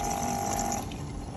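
Battery-powered livewell pump on a boat steadily drawing in water, a continuous close-up hum and wash of flowing water with an even whine that drops away partway through as the dying battery weakens.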